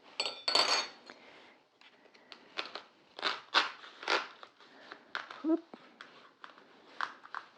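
Knife and server cutting into a lemon meringue pie, producing soft scraping and clinking against the dish in irregular bursts, close and fairly quiet, with a voice speaking quietly between cuts.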